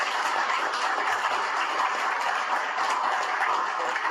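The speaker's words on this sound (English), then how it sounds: "Let's give Brandon a round of applause, please." Steady applause from an audience, a dense even patter of many hands clapping at once, sustained throughout without voices.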